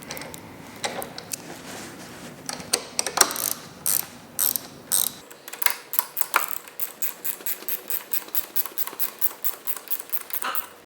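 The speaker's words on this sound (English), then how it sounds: "you're going to take your 10mm wrench and tighten them all down" A 10mm wrench ratchets on the handlebar clamp bolts of a 500W kids ATV, giving a quick series of close metallic clicks that speeds into a steady rhythmic run.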